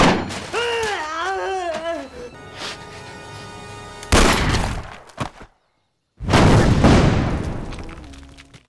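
Bursts of gunfire and heavy impacts from an action movie shootout, with armed guards being cut down: a loud blast around the middle, then a dense roaring volley after a short silence, following an opening of musical or vocal tones.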